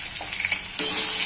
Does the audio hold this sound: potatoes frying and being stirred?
yes